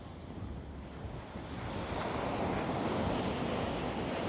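Waves rolling onto the powdery sand of Paradise Beach in Bimini, Bahamas, a steady close wash of surf that swells slightly louder partway through, mixed with wind buffeting the microphone and no voices.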